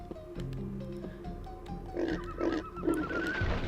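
A pig grunts and oinks in the Crash Bandicoot video game, several short snorting calls that build toward the end over tonal game music and effects, with no talking.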